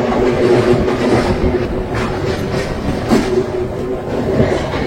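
A passenger train running on rails near Deulti station, a loud close rumble with rhythmic wheel clatter and a steady hum, continuous throughout.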